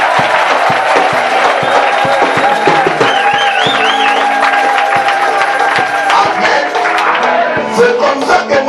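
A large crowd roars and cheers continuously, dense and loud, with scattered shouts and whistles rising above the steady din.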